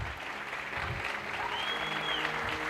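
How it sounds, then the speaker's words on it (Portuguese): A church congregation applauds mothers at a Mother's Day service, a steady wash of clapping that carries through the whole moment with a faint whistle rising partway through. "O melhor aplauso que você puder dar a essas mães, em nome de Jesus"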